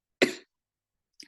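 A single short, sharp cough bursts out close to the microphone indoors, followed by near silence and a faint brief second throat sound at the end.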